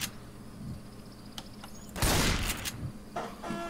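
Gunshots in the zombie shooter Left 4 Dead 2: a few scattered small reports early on, then a louder burst of shots with a trailing echo around the middle, set against a steady game ambience.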